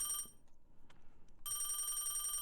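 A video game telephone from Dreambound rings in two bright electronic bursts, one brief at the start and a longer sustained ring in the second half, with quiet room tone between and no speech.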